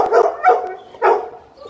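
Several dogs barking and yipping inside a pet store, in short loud bursts with pauses between them, close by and sharp.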